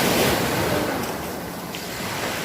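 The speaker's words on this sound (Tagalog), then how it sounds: "ang lakas ng alon" Strong ocean surf breaking on the shore near the Bangui windmills in Ilocos Norte, a loud continuous roar of waves with wind noise, steady throughout with no talking.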